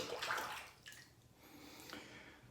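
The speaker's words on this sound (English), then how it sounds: "I'm gonna rinse the face here" Running water splashing as a face is rinsed, a few short bursts of gushing and splashing close by, fairly quiet, with no talking.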